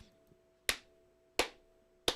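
Three sharp, evenly spaced hand claps ring out, close and crisp, each about two-thirds of a second apart, in a wrestling referee's three-count rhythm.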